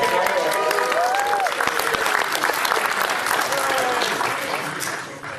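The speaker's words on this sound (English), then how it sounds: "give everyone a round of applause to Jeremy Gray" A convention industry-panel audience applauds Jeremy Gray, sustained crowd clapping with a few voices mixed in, tapering off toward the end.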